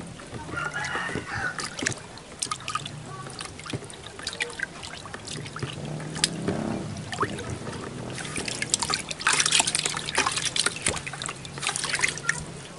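Liquid organic fertilizer is stirred in a 10-liter container, giving a continuous sloshing trickle with small splashes, while a rooster crows in the background.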